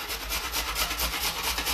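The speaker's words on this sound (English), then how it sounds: "Now, I'm just gonna use a grater. I'm just gonna grate it up." Hand grater scraping food while cooking chicken wings, a close, rhythmic rasping with repeated strokes in quick succession.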